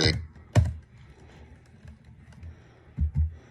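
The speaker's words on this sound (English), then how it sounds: "I'm using Braille PC keyboard input on NVDA on my computer" Braille-style input on a computer keyboard, a few sharp key presses scattered across a few seconds, close and fairly quiet, with a faint murmur of speech in the background.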